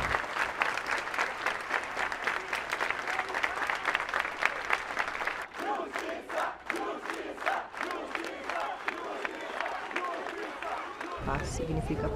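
A crowd at a street march honouring victims of a nightclub fire in Brazil applauds, with dense rhythmic clapping and shouting voices mixed in, thinning and shifting midway as the cheering continues.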